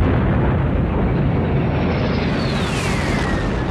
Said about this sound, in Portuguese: A explosão do Alien 2 aí no final